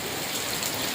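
Heavy rain pours in a steady, dense hiss, close and even throughout, with no distinct thunder clap standing out.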